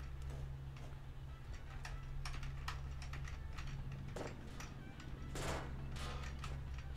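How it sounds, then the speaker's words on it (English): Computer keyboard and mouse used to play Portal 1, a steady stream of quiet clicks and key taps at irregular intervals over a low constant hum, faint and close. "So weird actually using a mouse and keyboard for this."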